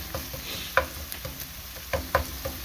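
Rice with small cubes of organic beef frying in a pot, with a soft sizzle broken by sharp, irregular scrapes and clicks of stirring.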